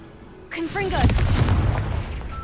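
A fire-blast spell in the video game Hogwarts Legacy erupts as a sudden booming explosion with a whooshing, crackling rush and a rolling rumble that fades, mixed with game music.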